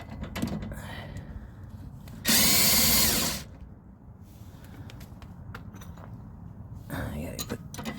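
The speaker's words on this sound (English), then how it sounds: "All right, just snugging the nuts up. Strut body nuts." A power tool snugs the strut body nuts on a 2016 Ford Mustang EcoBoost convertible's front strut assembly, with one loud, close whirring burst about a second long, a shorter one later, and light clinks of metal tools in between.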